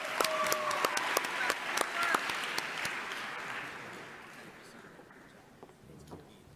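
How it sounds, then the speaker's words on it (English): Audience applause at an awards ceremony, loud clapping at first with sharp individual claps standing out, then steadily thinning and fading to scattered claps by the end. "Let's give them a round of applause, please."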